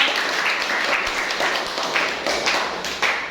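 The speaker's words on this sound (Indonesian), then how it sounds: "Tepuk tangan untuk kita semuanya" A morning classroom group applauds together, a brisk wash of clapping with scattered sharper taps that stays fairly loud and even from start to end.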